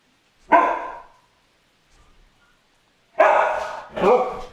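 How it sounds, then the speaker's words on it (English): A dog named Simba barking indoors, one sharp bark followed by a pause, then two more close, loud barks in quick succession. "There's nothing to bark at."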